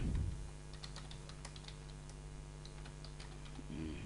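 Typing on a computer keyboard with light, rapid, irregular key clicks. The clicks sit over a steady low hum and stay fairly faint and close throughout.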